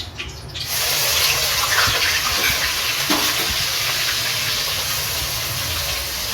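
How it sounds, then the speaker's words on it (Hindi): Chopped onions dropped into hot oil for a kidney bean curry hiss and sizzle loudly, a bright steady frying crackle that swells after the first moment and holds for several seconds. "ऑयल अच्छे से गर्म हो चुका है। अब हम इसमें ऐड करते हैं प्याज।"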